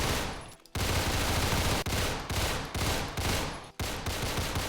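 Rapid burst-fire machine pistol shooting in Phantom Forces, loud and close, coming in several dense bursts separated by brief pauses, with no talk over it.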